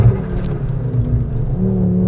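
Ford Focus RS tuned to 400 hp and 600 Nm, driving near Sorrento: a loud, close engine note rising and holding as it revs, with a deep rumbling tone throughout.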